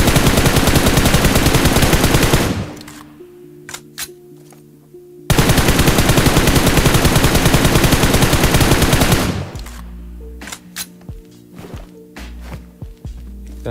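Automatic weapon fire in the mobile game PUBG Mobile, two long continuous loud bursts of rapid shots, each followed by quieter clicks, footsteps and reload clatter.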